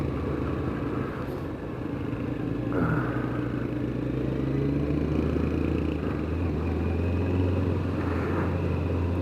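A 1994 Kawasaki ZZR 1100 motorcycle on the road gives a continuous low, rumbling engine drone with heavy wind buffeting and small shifts in revs. It stays steady throughout, with no talking.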